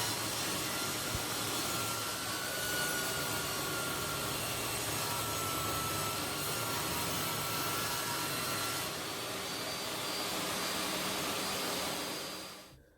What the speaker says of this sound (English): I decided to clamp all 4 pieces together and chop them using my circular saw